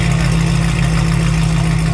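A Chevrolet Camaro SS with dual exhaust and valvetronic valves opened rumbles at a steady idle, a loud, deep and even exhaust drone with no revving, heard close and alone.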